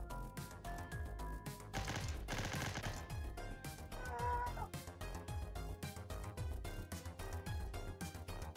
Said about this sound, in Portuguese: Vamos dar tirinho de sniper.